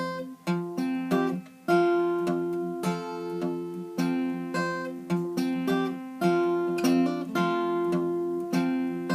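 A solo acoustic guitar plays the intro riff of Hark The Herald Angels Sing, with bright picked notes and strummed chords in a steady rhythm, close and clear with no talking.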